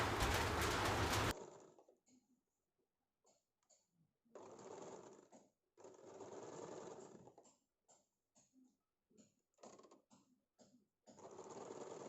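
Sewing machine stitching the side seam of a folded katori blouse, running in short bursts and longer stretches separated by brief pauses, close and fairly quiet, with no talking.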